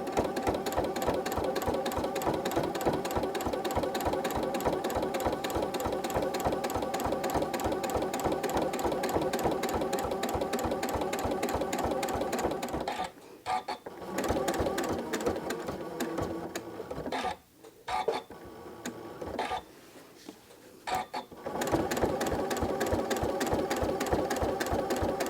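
Sewing machine top stitching a quilted mug rug with a lengthened 3.0 stitch, a fast steady mechanical clatter of stitches that pauses briefly several times in the middle, then resumes.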